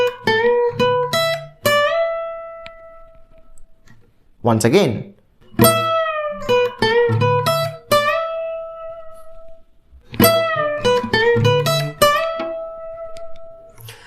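Electric guitar plays a slow blues lick in separate phrases with sustained, bent notes, loud and close, broken by a brief spoken interjection partway through.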